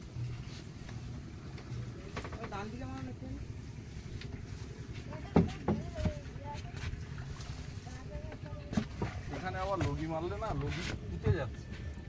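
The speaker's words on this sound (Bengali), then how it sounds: "সৌরভ খুব ব্যস্ত বোট চালানোর জন্য" A motor boat being driven through the Sundarbans, its steady engine drone running beneath people talking, with a few louder knocks and bumps along the way.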